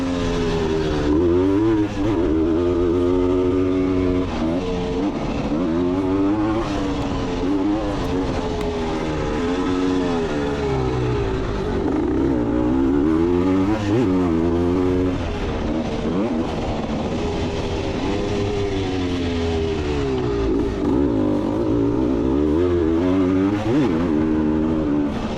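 Several vintage motorcycles race around a dirt track with berms and long, low jumps, engines revving and droning loudly and continuously, pitch rising and falling as the bikes accelerate and shift.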